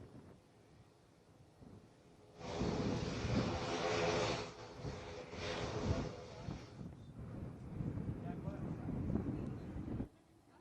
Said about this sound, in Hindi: यहां पर कुछ लड़ाकू विमान टच डाउन कर रहे हैं, तो कुछ लड़ाकू विमानों ने प्रॉपर यहां पर लैंडिंग की है